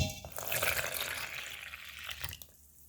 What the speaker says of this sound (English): add the proofed yeast and water